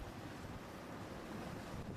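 Strong gusty wind buffets the microphone on a Mediterranean seashore where people fish from the shore, producing a continuous loud roar that blends with the wash of surf.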